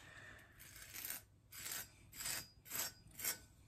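Victorinox Grand Maitre knife edge rubbed on a rough diamond sharpening surface, five rhythmic raspy scraping strokes, close but quiet, each about half a second long with short pauses between.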